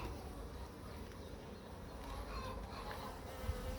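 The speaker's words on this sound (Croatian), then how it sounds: "Pčele znači donose ovdje polen" Honeybees hum around an open Farrar beehive while foraging in spring dandelion bloom, a faint, steady buzzing drone close by with no one speaking.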